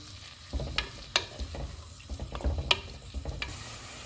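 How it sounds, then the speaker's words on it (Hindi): Onions fry in hot oil for a chicken tikka boti handi, a soft continuous sizzle broken by irregular scraping stir strokes from a spoon in the pan, close but quiet. "ऑयल गर्म हो गया, इसमें प्याज डालेंगे। इनको गोल्डन फ्राई करेंगे।"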